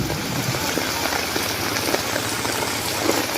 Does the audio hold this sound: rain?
yes